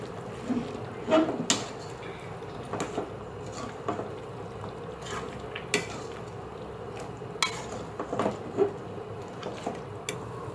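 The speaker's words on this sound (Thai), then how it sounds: "ใส่ผักลงไปค่ะเพื่อนใส่ผักไป เราใส่ฟักไปก่อนเพราะว่าฟักสุกยาก" Winter melon goes into a simmering pot of Isan-style pork curry, bringing scattered metallic clinks and scrapes of utensils against the pot over a low bubbling background, with someone talking now and then.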